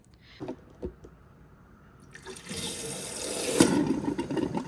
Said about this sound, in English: run water from the dispenser for 2 gallons or approximately 5 minutes to clear the